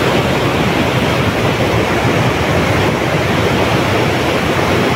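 A mountain river rushes steadily along a road on the route from Khechuperi Tathang to Darap Bazar, a loud, continuous broadband roar of flowing water with no talk heard.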